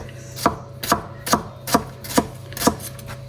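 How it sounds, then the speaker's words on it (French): A knife finely mincing shallot on a cutting board, six even, firm chops at a steady unhurried rhythm, close and clear with no talking. "on va émincer finement."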